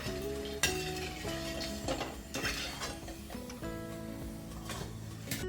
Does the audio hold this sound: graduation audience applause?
no